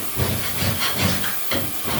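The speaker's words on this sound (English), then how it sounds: "this one here steam up and hopefully get through those little holes that we've just made on the wallpaper" A wallpaper steamer hisses loudly and continuously up close, a steady rush of steam with slight pulsing as it is pressed against perforated wallpaper.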